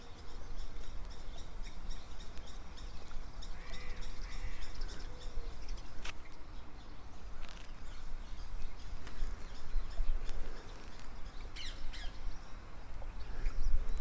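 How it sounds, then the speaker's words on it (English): Wild birds calling outdoors near golden water, a scatter of squawks and chirps over a soft ambient background, moderately distant, with no speech. "And we have the birds in the background."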